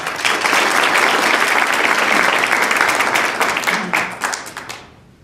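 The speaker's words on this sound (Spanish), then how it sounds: "Un fuerte aplauso para él." An audience in a public library breaks into loud, sustained applause to welcome a Qom community leader before his talk, the dense clapping holding steady and then thinning out and fading over the final second.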